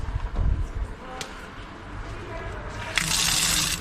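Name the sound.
water running strongly from a hose at a tap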